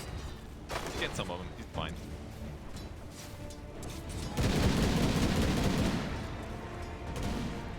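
Gyrocopter's Rocket Barrage in Dota 2 during a professional match, a dense rumbling salvo of rapid rocket blasts swelling loudly midway and trailing off, with game effects before it and a commentator talking over it.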